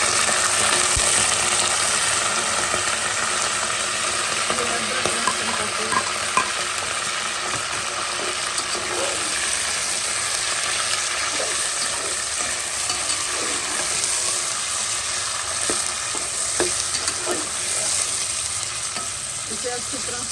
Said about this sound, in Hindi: इसे अच्छी तरह से भून लेंगे,